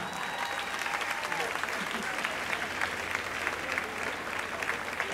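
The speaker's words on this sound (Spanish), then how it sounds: "Me toca un fuerte aplauso, por favor." Strong applause from an audience at a folk music show, a continuous sustained wash of clapping lasting several seconds at moderate level, with faint voices mixed beneath.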